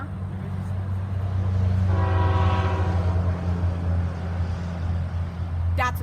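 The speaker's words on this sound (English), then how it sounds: "That's a coal train." A coal train rolls past with a steady low rumble while its horn sounds a loud multi-tone blast for about a second, fading back into the continuous rail noise of passing cars.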